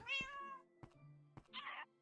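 In a Minecraft game, a cat gives a clear meow followed by a few soft thumps and a short, bright, noisy burst, all brief and close with no talking.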